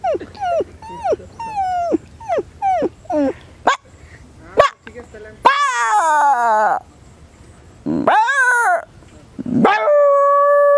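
A man mimics a puppy, voicing a rapid series of short yelping barks, then longer whining howls and whimpers with pauses between them, all close and clear.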